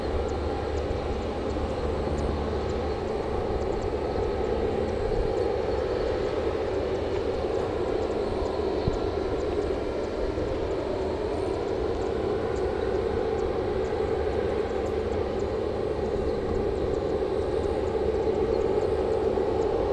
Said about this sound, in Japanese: 5番スポットではジンエアー機のプッシュバックが始まりました。